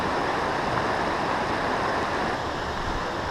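Small, shallow brook trout stream in New Jersey, a steady, full wash of flowing water, continuous and even, with no voices.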